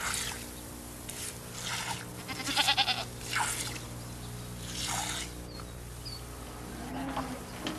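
A family goat bleats several times in a rustic setting, the calls moderately close and rising over a steady buzz of flies or bees, with no speech.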